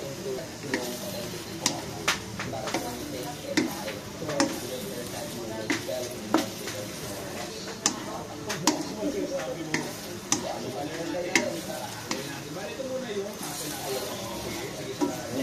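Eggplant stir-fried in a pan with oyster sauce, a soft continuous sizzle broken by regular spatula taps and scrapes against the pan, close and steady, with a voice talking over it.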